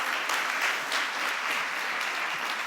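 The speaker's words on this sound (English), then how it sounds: "Yeah, you can give them a round of applause." An audience at a politics conference gives a warm, even round of applause, a steady wash of many hands clapping at moderate loudness without voices.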